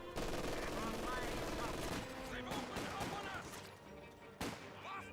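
MG42 machine gun fire in the strategy game Company of Heroes 2, a dense, continuous rattling of automatic fire with battle noise and occasional heavy impacts, loud throughout under a faint commentator voice.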